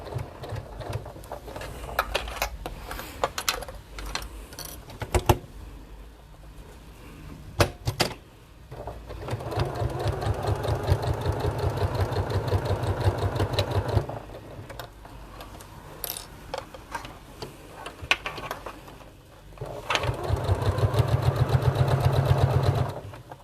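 A sewing machine stitches a bag seam in stop-start runs, with a close mechanical whirring, clicking and ratcheting that changes pace, including a brief reverse stitch and longer steady stretches.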